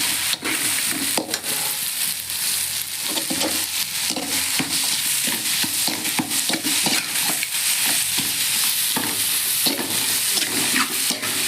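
Onion, tomato, eggplant and garlic sauté in a pan for a spicy fish curry, a steady close sizzle with repeated scraping stirs running throughout, no voices.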